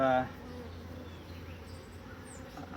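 A honey bee colony hums steadily during a hive inspection, a continuous low buzzing drone that follows a brief louder burst at the very start.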